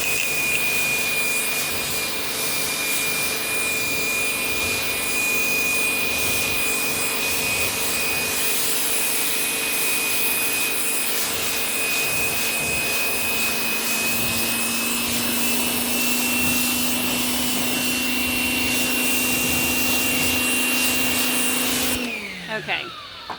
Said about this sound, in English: All right, so I'm going to take my pressure washer here.